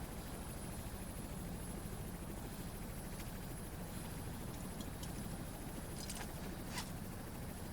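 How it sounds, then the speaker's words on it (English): Helicopters arrive in the Ghost Recon Future Soldier video game, a continuous dense rotor roar with steady wash, a few brief high clicks near the end, no voices. "We've got choppers inbound to pick you up."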